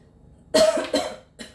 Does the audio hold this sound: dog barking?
no